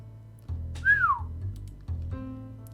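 A single long whistle slides down in pitch, clear and close, against a quiet low room hum with faint thumps before and after.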